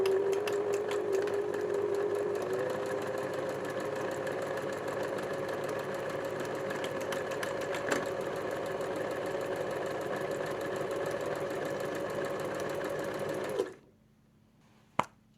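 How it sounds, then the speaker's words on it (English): A Janome mechanical sewing machine stitches an automatic one-step buttonhole, its needle whirring in a steady rapid mechanical rhythm close by for about fourteen seconds before stopping abruptly into near silence, with one faint click afterward. "Everything's ready, so now we just sew."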